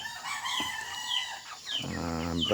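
Broiler chickens in a coop, with overlapping clucks and a drawn-out crowing call rising near the end, fairly close and loud over a hum of background flock noise.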